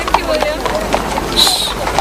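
Horse hooves clip-clop on the ground during a fox hunt, a short run of quick, fairly close beats with voices mixed in.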